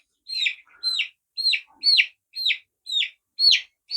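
A Japanese Bantam chick gives eight evenly spaced high, clear chirps about half a second apart, close and loud against silence.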